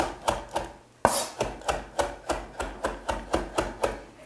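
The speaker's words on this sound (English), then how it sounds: "I like to chop it up a little bit so that it flows better in blender." A knife chops a pile of fresh cilantro on a cutting board in quick, regular strokes, about three per second, close and crisp, after a short pause near the start.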